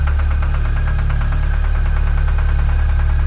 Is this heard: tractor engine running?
yes